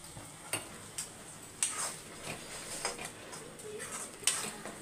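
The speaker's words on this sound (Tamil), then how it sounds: "சேர்த்துட்டு மிக்ஸ் பண்ணிவிட்டு மூடி வச்சிடலாம்." Salt being stirred into chicken in a pot for Dindigul-style chicken, with sparse metallic clinks and scrapes of a utensil against the pot and a lid set on, faint and intermittent with no talk.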